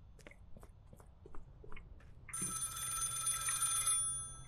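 A telephone rings in the video game Contraband Police, a bright electronic ring starting partway through and sustained for about two seconds over low background noise and faint clicks.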